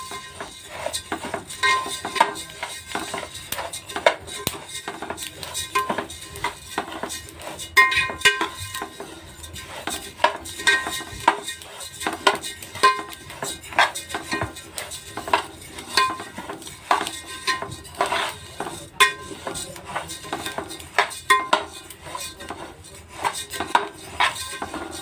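Fennel seeds being roasted in a pan, with repeated scraping and stirring strokes, soft rattling and faint sizzling, moderately quiet and close.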